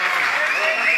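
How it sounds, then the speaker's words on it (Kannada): Audience applause rings out for a child at a children's Kannada literature conference in New Delhi, a brief, full burst of clapping mixed with voices. "ಜೋರಾದ ಚಪ್ಪಾಳೆಯೊಂದಿಗೆ ಈ ಮಗುವಿನನ್ನು ಸನ್ಮಾನಿಸೋಣ"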